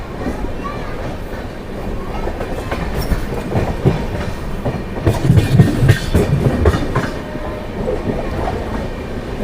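A Dehradun–Tanakpur express train (15019) clatters over track switch points at the Kotdwar line junction, rhythmic wheel clicks swelling to a louder burst of clacking midway over a steady rumbling roll.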